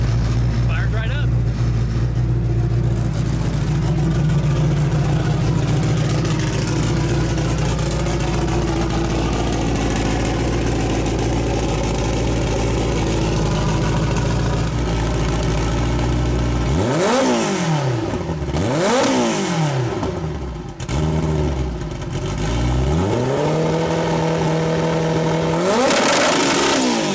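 A 1800hp 4G63 four-cylinder turbocharged AWD car engine fires up and idles loudly and steadily, then gives several sharp, sweeping revs toward the end, close and continuous with voices talking over it.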